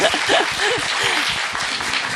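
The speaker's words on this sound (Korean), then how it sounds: "박수 부탁드립니다" Audience applause at a Korean event with the Frozen 2 directors, a dense steady patter with a few voices and faint laughter mixed in.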